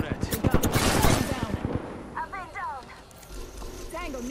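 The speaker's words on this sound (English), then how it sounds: "Stop, I'm getting shot at." Apex Legends gunfire, a rapid run of loud automatic shots crackling for about two seconds, then quieter game sounds and chirps, with voice lines over it.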